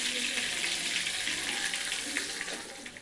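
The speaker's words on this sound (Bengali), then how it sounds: "চিংড়ি মাছগুলো বেশি ভাজবো না, একদম হালকা করে ভেজে নেব, নাহলে শক্ত হয়ে যাবে।" Prawns frying lightly in white oil and ghee for Bengali prawn pilau, a steady broadband sizzle running throughout, close and fairly loud.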